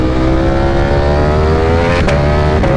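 A Ducati V4 SP 1103 cc superbike engine revs loud and close with a rising, smooth whine, broken by quick upshift blips from the quickshifter before it pulls again.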